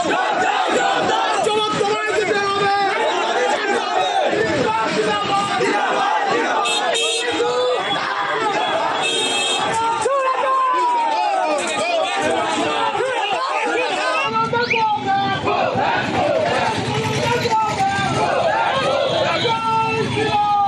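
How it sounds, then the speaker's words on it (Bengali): BJP workers in Diamond Harbour chanting go-back slogans at Sukanta Majumdar, a loud crowd of shouting voices and hubbub throughout, with rhythmic chanting rising over the din. "diamond হারবারে Sukanta মজুমদারকে go back slogan দিচ্ছেন বিজেপি কর্মীরাই"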